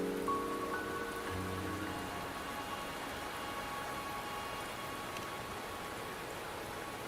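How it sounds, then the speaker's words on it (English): Steady rain pours down in a Wuthering Waves mountain scene, a dense, even hiss holding at the same level throughout, with a few faint tonal ambience lines early on. "Don't worry, the rain won't last much longer."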